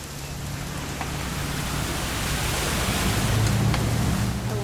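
Steady rain falls in the video game What Remains of Edith Finch, an even, hissing wash of droplets that fills the scene at a constant moderate level with a low hum beneath, with no talking.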